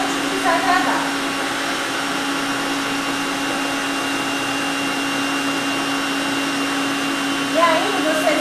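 Electric mixer beating eggs at full speed, a steady close motor whir held continuously, with faint brief voices near the start and end.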